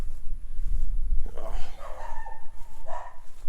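A dog barks and yips a few times at a fishing spot by the water bank, short sharp calls mixed with faint handling noise and no clear speech.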